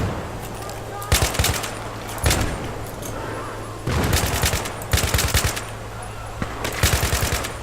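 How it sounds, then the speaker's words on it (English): Gunfire in Battlefield 3 sounds in sharp, loud bursts of several rapid shots each, recurring roughly every second or so, with a voice speaking between the volleys. "So he's shooting a shotgun at me."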